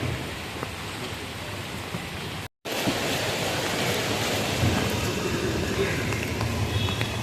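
Heavy monsoon rain pours down in Mumbai as a dense, steady, close hiss that is broken by one brief dropout and then continues unchanged.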